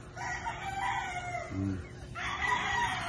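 A double-banded stag rooster, a young gamecock, crows once, clear but a little distant. Other birds chatter faintly around it in an outdoor yard.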